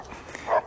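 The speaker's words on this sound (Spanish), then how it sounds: "Sí, se han vuelto a escapar los cachorros del vecino." A neighbour's escaped puppies give a single short bark-like yip, moderately close, on a quiet outdoor background.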